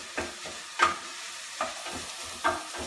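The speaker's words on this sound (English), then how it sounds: "I'll stir them around now" Rice being stirred in a pan, with soft sizzling and several spaced scraping strokes of a utensil, fairly quiet and close.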